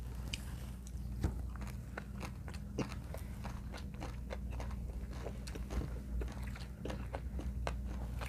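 Close-up bites and chewing of kimbap rolled with shepherd's purse greens: repeated soft crunchy bites and wet chewing in a quiet room over a low steady hum, with no talking.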